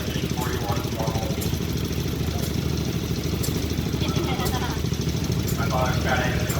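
A 1941 model tractor engine runs at a steady, low, throbbing idle at a parade of power, heard under an announcer talking over a loudspeaker.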